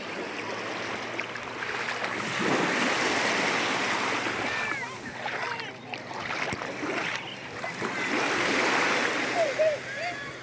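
Sea waves wash and splash continuously along a beach in Italy, with surges swelling and easing at close range, and people talk intermittently over the surf.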